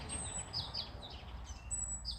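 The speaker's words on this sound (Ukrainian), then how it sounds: "І чути, як співають пташки." Small birds chirp and tweet in short bright bursts in a garden, fairly faint against a quiet outdoor background hum.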